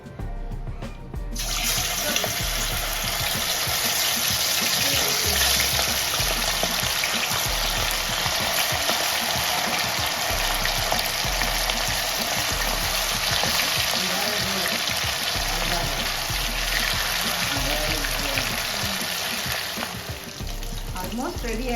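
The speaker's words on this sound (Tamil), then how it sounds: "இதை அப்படியே வந்து பொரிச்சு எடுத்துடலாம்" Steady loud sizzle of marinated fish frying in hot oil in a home kitchen, continuous and close throughout, with light stirring sounds and faint talk in the background.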